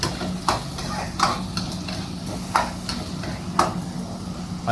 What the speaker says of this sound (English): So, softening the garlic and softening the onions.